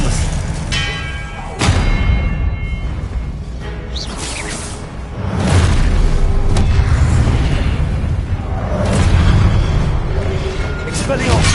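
Expelliarmus spell casts in Hogwarts Legacy: repeated loud magical blasts and booming impacts with ringing, bell-like tails, recurring every few seconds over busy combat noise, with a voice cutting in at times.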